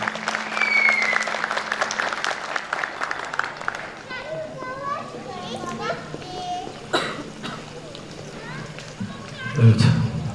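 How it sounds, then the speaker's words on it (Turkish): Applause at a traditional music concert in a Diyarbakır courtyard hall: a few seconds of dense clapping from the audience, then it dies away as voices, children and general crowd chatter take over. "Kurulu Başkanımız Sayın Kenan Aksu Beyefendi büyük alkışlarla mikrofona davet ediyorum efendim."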